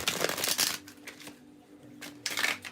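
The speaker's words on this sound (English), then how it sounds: "I just have to shuffle them the long way" Tarot cards are shuffled in quick riffling bursts, loud at the start and again near the end, with a quieter gap in between and no talking.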